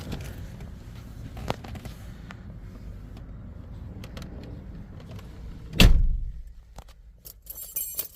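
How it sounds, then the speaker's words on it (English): Keys jangle faintly for a 1993 Ford Explorer XLT, light metallic clinks over a low rumbling background, followed by a single loud thump near the end. "If I can find the right set of keys here."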